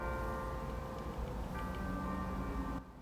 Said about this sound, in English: Did you hear the bells?